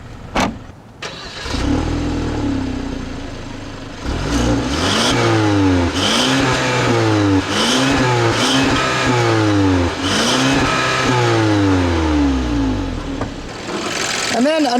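2011 Hyundai Sonata 2.0T with a 2-liter turbo gasoline direct-injection engine revs repeatedly through its exhaust, about eight loud rising and falling sweeps in a steady rhythm after a startup bark, close and dominant.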